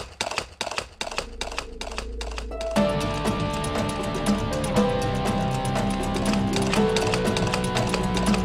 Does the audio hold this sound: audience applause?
no